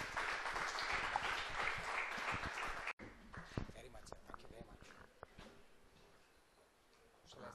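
Audience applause closing a valedictory talk on making a living versus making a life, a dense wash of clapping for about three seconds that breaks off, then thins into scattered claps under talk and room noise.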